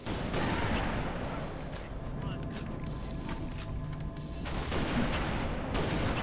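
Gunfire from Halo Reach, DMR or sniper rifle shots: repeated cracks and a scattered barrage of distant weapon fire under a steady background of game noise, with someone talking over it throughout.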